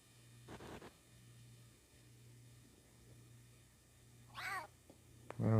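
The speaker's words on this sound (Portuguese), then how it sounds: "Olha o gato. Just a cat." A cat meows in the video game Clock Tower, a couple of short mewing calls late in the moment over a quiet, dim background hum, preceded by a few faint soft thumps.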